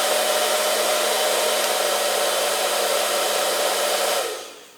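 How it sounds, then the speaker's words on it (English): An electric heater drawing about 500 watts from an inverter gives a steady, loud, close broadband whoosh like a blower, running unchanged before cutting off and fading away near the end. "I'm going to switch the heat on, which is supposed to be about 500 watts, roughly."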